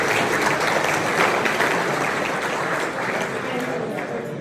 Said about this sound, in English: please give her a quiet clap